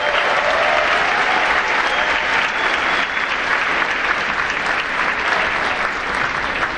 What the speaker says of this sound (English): How about a nice round of applause for our class?